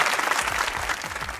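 Brief burst of studio audience applause on a Pakistani comedy talk show, many hands clapping in a dense, steady wash for a second or two.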